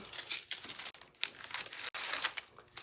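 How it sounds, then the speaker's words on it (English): Painter's tape is peeled off paper from around a botanical print, giving close, crisp crackling and tearing rips in a few quick pulls, quiet and with no talking. "this is always the most satisfying thing, pulling off painter's tape"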